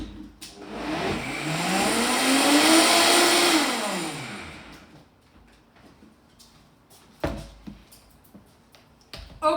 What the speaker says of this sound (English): And blender again.